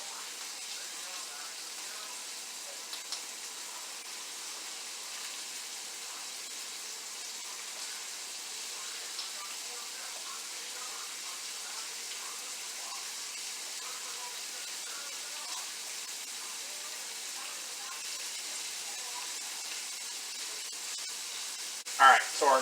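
Thinly sliced meat searing in a hot pan gives a steady, even sizzling hiss that runs unbroken at moderate volume, with a brief clatter right at the end.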